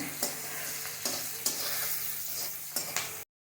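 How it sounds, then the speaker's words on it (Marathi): Onion and dried coconut stir and fry in a pan for a spiced yogurt misal, a steady sizzle broken by several sharp scraping strokes of the spoon, close and alone before a sudden cut to silence. "आता कोबरं घालूया आपण आता छान मिक्स करून घेऊया"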